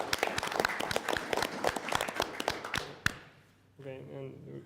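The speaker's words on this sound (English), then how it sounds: "so let's clap for him" Audience clapping for mentors at a Google Summer of Code panel, a few dozen fairly close claps in an uneven burst that stops abruptly, followed by someone starting to speak.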